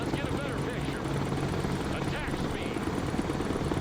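A helicopter in the video game Broken Arrow gives a steady, loud rotor drone that runs throughout without a break.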